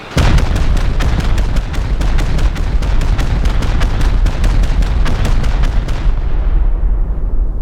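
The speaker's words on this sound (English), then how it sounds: "So what we'll do is we'll pump 29 rockets at that." A long rapid barrage of rocket explosions slams into a bunker wall in the game Rust, dozens of loud booming hits in quick regular succession for about six seconds before fading into a rumbling tail.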